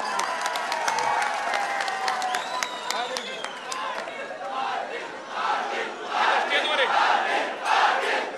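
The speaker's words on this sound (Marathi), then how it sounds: "म्हणून एकदा पाटलाच्या नावाने एकदा जोरदार टाळी." A large crowd at an outdoor political rally claps and cheers loudly, a dense roar of applause and shouting that swells toward the end, with a voice over a loudspeaker at the start.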